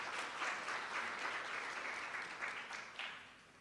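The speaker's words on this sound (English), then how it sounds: "Round of applause for them" Moderate clapping from an audience at a certification awards ceremony, a continuous patter of many hands that fades a little near the end, fairly quiet overall.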